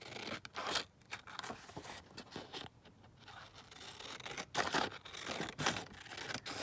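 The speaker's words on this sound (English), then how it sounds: "cutting that out" Scissors cut paper for a junk journal with steady close crunching and slicing strokes, a near continuous run of snips and rustles at moderate level without speech.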